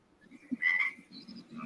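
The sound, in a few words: frog croaking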